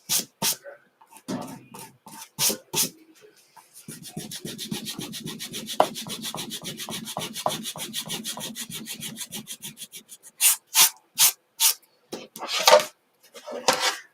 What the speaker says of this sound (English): Well, that's what sandpaper's for.